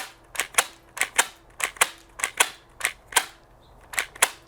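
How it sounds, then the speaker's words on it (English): Nerf Gelfire Legion gel blaster slam firing, a quick series of sharp, snappy cracks in close pairs and bursts, loud and close with brief pauses between volleys and no talking. "Let's see how the slam fire works."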